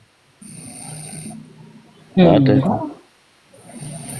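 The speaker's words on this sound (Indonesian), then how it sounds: "Ada yang ngorok itu, tolong diituin." A person snores in a room, a low rasping rumble of slow breaths repeating at a steady pace. A burst of nearby talking briefly rises over it, then the snoring continues.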